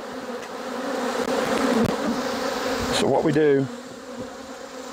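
Honey bees buzz loudly and continuously close by during a kitchen hive inspection, a dense droning hum with someone speaking briefly over it.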